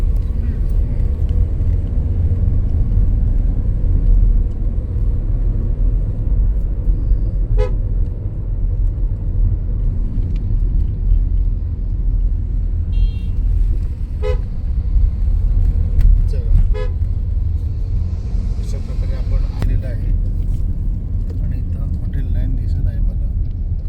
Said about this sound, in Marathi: त्या बाजूने ट्रक जातात.